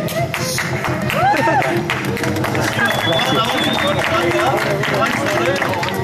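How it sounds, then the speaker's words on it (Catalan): Audience clapping at a village fair in Anglès before a magic show, dense sustained applause mixed with crowd chatter and a few raised voices throughout. "si ja m'aplaudiu abans de que faci res"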